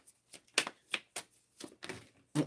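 Tarot cards being shuffled by hand, a series of sharp riffling bursts and soft slaps spaced irregularly, fairly close and moderately loud, with no talking over them.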